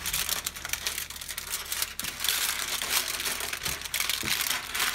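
Aluminium foil being folded and rolled into a loose cylinder, with close, continuous crinkling and crumpling that rises and falls in irregular bursts, fairly quiet.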